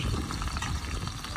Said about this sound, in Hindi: प्याज को हल्का सुनहरा होने तक भून लेंगे।